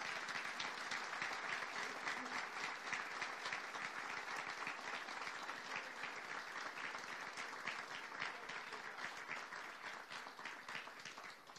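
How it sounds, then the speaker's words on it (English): Quiet but steady applause from an audience at a forum for U.S. Soccer presidential candidates, a continuous wash of many hands clapping that fades slightly toward the end. "give them a round of applause"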